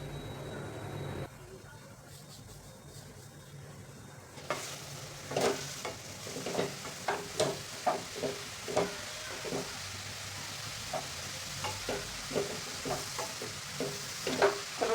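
Grated carrots cook in a pan for carrot barfi and are stirred with a spoon, giving a quiet sizzle and a run of regular scraping strokes, with a person talking at times.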